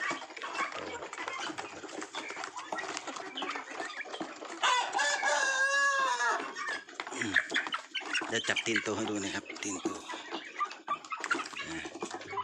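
Brahma chickens, hens alongside a rooster on a Thai chicken farm, cluck repeatedly close by while a rooster lets out a loud crow midway, all under someone talking.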